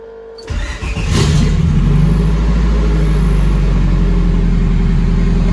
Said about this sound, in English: I'll see if I can get the car started up for you.